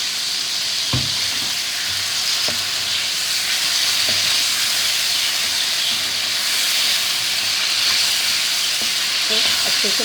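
Chicken karahi frying in a pan after vinegar and salt go in, a constant loud hissing sizzle with a few sharp utensil knocks, no talking.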